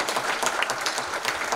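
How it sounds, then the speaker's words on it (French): Audience applause at a collective sports conversation event, a dense continuous patter of many hands, steady and moderately loud throughout. "applaudissez-les un petit peu quand même"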